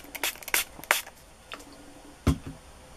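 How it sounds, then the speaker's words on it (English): An unused toothbrush's bristles get misted from a spray bottle, part of setting a doll's hair into curls: several short, soft hissing spritzes spaced irregularly, close by, with quiet pauses between. "what you're gonna do is spray the bristles."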